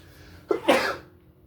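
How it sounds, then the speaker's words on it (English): One close, sudden sneeze bursts out of a quiet room, a short sharp intake followed by a louder explosive release that quickly dies away. "Here comes a confirmation sneeze."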